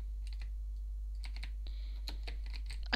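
Bursts of clacky keystrokes from a new Razer BlackWidow mechanical keyboard, a few isolated taps followed by a denser flurry, close and fairly quiet over a steady low hum, without speech.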